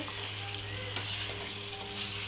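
Spicy pepper chicken with curry leaves sizzles and fries steadily in a pan while being stirred, giving a dense continuous crackle with faint scraping and no talking.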